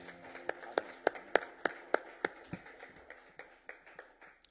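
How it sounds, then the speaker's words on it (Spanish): A church congregation clapping in unison, a roughly regular series of sharp hand claps slowing and thinning toward the end, fairly quiet and without talk. "Un aplauso más al Señor."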